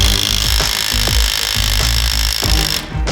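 An impact gun hammers at the cam gear bolts of a Subaru engine during a teardown: a loud, steady mechanical whirring broken by regular knocking pulses, cutting off briefly near the end.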